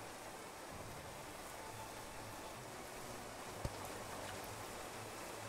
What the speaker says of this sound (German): Jetzt regnet es natürlich